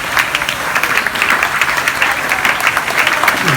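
At a school prize-giving, an audience applauds a Class 9 B girl who won second prize, with dense sustained clapping from many hands, loud and even throughout.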